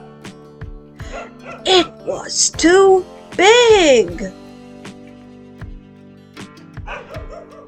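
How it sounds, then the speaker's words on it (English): Several dogs at a dog's home yip and bark in short bursts in an animated children's story, loud and close, with a narrator speaking between and over them. "They're woofing."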